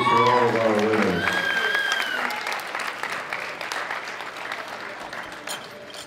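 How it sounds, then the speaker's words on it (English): An audience at a junior world powerlifting championship claps for the winners, a dense burst of applause that gradually fades, while an announcer's amplified voice speaks over the opening. "Big round of applause for all of our winners"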